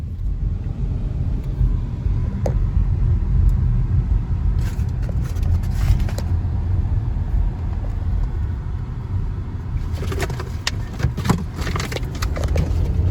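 A car passes on a road near a seminary campus at night, a low steady rumble that swells briefly toward the end, with no talk over it.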